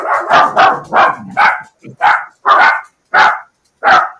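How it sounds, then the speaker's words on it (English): Several dogs, one of them a puppy, bark in a quick series of sharp, close barks, with a higher yippy puppy voice joining in as the barking spreads out toward the end. "That puppy bark is so cute though."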